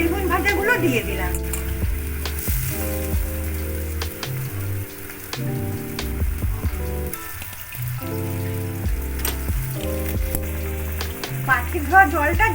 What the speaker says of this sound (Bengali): এবারে আলু আর বেগুন ভাজাগুলো দিয়ে দিলাম।